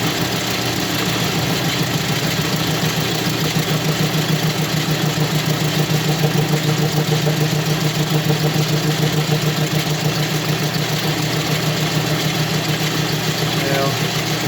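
A lathe cuts down a metal base for a 660 clone engine, a steady mechanical whir and hum running loud and continuous throughout.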